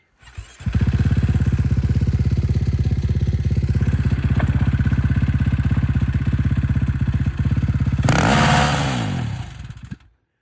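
A KTM 450 engine mounted on a homemade buggy starts and runs at a loud, steady, rough idle close by for about eight seconds, then blips briefly higher before cutting out.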